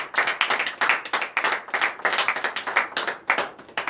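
A church congregation at morning prayer claps in a brisk, rhythmic stream of sharp hand claps to acclaim the Lord, close and lively, with no speech over it.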